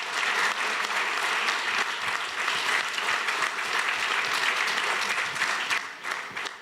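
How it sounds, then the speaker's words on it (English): A tech event audience gives a round of applause, dense and loud clapping sustained evenly across the clip before tapering slightly at the close. "Can we give a round of applause to you?"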